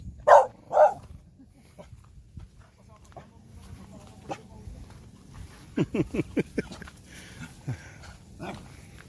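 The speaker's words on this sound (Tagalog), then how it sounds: "Mga aso na Ate Nels" Dogs at a home in Infanta bark in two sharp, loud bursts at the start, then give a quick run of fainter barks or yelps further off later on, with quiet gaps and some background noise between.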